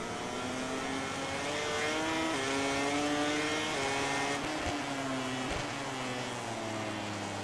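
A Honda MotoGP racing motorcycle in MotoGP 18 screams through rising and falling revs as it accelerates and shifts, a high, buzzing engine note, loud and steady with a few abrupt drops.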